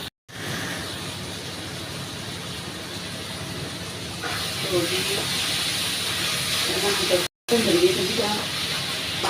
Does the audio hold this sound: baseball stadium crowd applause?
no